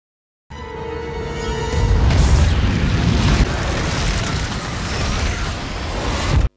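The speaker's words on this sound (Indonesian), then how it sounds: "Gedung pun meledak dan lenyap." A building blows up in the Ant-Man film, a loud booming blast with rumbling debris that swells after a brief lead-in and roars continuously to the end, with no talking.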